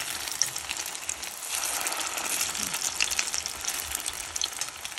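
Thai pork cookies frying in a pan of hot oil, a dense, continuous crackling sizzle with sharp pops throughout, close up and with no talking.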